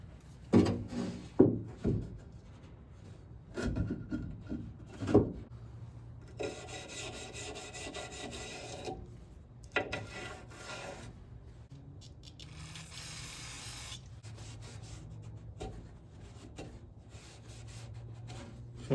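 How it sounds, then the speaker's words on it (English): A rag wiping and scrubbing old grease off the window regulator of a 1973-79 Ford Dentside truck, with uneven rubbing and scraping strokes and a few sharper knocks, close up and with no talking. "We're just going to go here and wipe this up and get all that old grease out of there."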